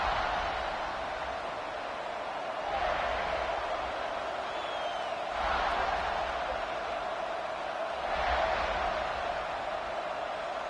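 A home crowd roars at a football stadium during a South Carolina versus Georgia game, a steady broadband wash of cheering that swells louder three times in waves, with no clear voices standing out.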